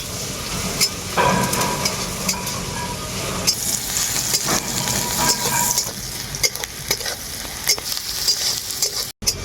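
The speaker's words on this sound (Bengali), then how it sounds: "এরপর আমি পেঁয়াজটাকে খুব ভালো করে ভেজে নেব" Chopped onions with salt fry in hot mustard oil, giving a close, steady sizzle with stirring scrapes and occasional utensil knocks throughout, with no voices.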